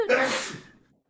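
A single sharp sneeze bursts out close by, then fades quickly into silence.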